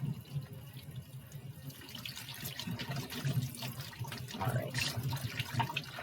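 Water runs from a kitchen sink tap into a bowl, a steady close splashing stream that continues throughout with slight shifts as the flow hits the bowl.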